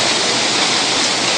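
Hail and heavy rain pour down during a thunderstorm in America, a dense, steady roar of loud broadband hiss with no break or rise across the short stretch.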